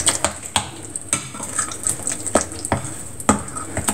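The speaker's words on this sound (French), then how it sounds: "Il faut bien mélanger pour que ça rentre bien dans la pâte." A utensil stirs harcha batter with baking powder in a bowl, giving close, irregular scraping and clinking knocks against the dish, with a steady faint high tone behind them.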